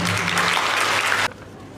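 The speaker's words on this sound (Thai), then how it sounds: "ขอเสียงปรบมือให้อาจารย์ท่านนี้นะครับ" An audience applauds loudly at a gathering with a teacher, a dense burst of clapping that stops abruptly near the end and leaves a quieter room tone.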